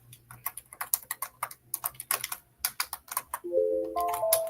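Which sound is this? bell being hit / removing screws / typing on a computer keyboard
typing on a computer keyboard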